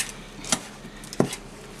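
A utensil works protein bread dough in a bowl, giving two sharp, clear clinks against the bowl about half a second apart, over a quiet kitchen background.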